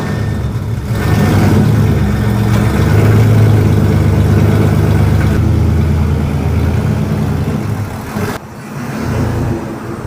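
A loud RWB Porsche engine runs steadily outdoors, a deep continuous idle with a slight swell in revs, then a brief dip and recovery near the end; no talk is heard.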